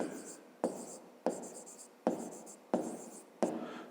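Pen strokes scratch across paper in six quick, evenly spaced bursts, each starting sharply and fading, quiet and close, as an answer is written down during a fifth-grade maths exercise.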